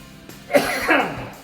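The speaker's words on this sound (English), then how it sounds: "still a little COVID cough here." A single adult cough, close and fairly loud, with a second smaller cough or throat-clearing following it. It comes during a talk at a parking-lot gathering held before a Chevelle car show.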